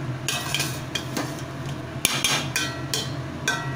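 Cooked rice and lentils being stirred in a pot, a series of distinct spoon knocks and scrapes against the metal, close and clear with no one talking.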